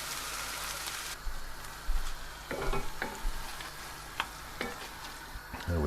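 Canned chopped tomatoes poured into a pot of sizzling Greek beef stew, a soft steady sizzle broken by wet splats and a few clanks of spoon and pot, close and fairly quiet, no talk.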